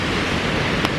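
Rushing water pours down the Suuçtu waterfall in Bursa, a dense, steady roar heard close up that stays constant throughout.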